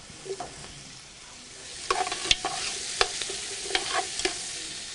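Celery, onion and garlic sizzle steadily in a pan on a stove, with a few close stirring scrapes and clicks of a utensil over the continuous frying hiss, with no talk.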